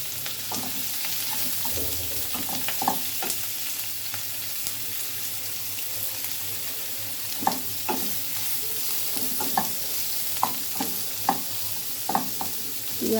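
Chopped onions, garlic and green chillies fry in hot oil in a pan, a constant close sizzle broken by scattered scrapes and clicks of stirring, with no talk.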